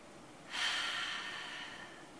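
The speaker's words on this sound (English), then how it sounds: "Take a deep breath in." A person takes one deep breath in, close and soft. The airy inhale swells and then slowly trails off in a quiet room.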